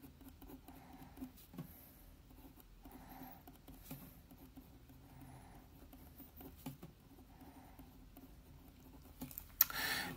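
Calculator buttons pressed rapidly to enter numbers: soft, dense patter of small plastic key taps in quick runs, close and steady, with no talk and a sharper tap at the very end.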